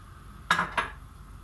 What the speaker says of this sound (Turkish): İçerisine brokolilerimi atacağım.